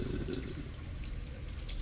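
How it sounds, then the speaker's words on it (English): Water runs steadily from an overflowing, clogged sink in the video game Stasis, a continuous soft tap-like splashing and trickle with no voices. "Liquid from the overflowing sink has splashed onto the water, pooling the polished floor."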